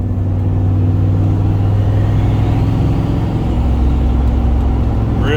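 A turbocharged EFI 460 V8 in an S480 rumbles steadily and loudly while driving on the road, a constant close engine drone with no break.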